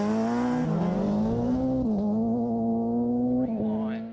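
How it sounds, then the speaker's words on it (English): A Toyota Corolla S2000 rally car drives hard on a rally stage, its engine loud and close with a sustained rising and falling tone through gear changes and brief lifts off the throttle. "Lewis back on the road in the Toyota Corolla S2000"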